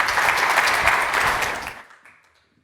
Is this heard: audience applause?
yes